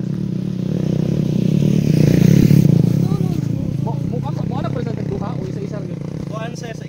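A motorcycle engine revs up to a loud peak around the middle and then settles into a rougher running note, with chirping birds and people talking over it.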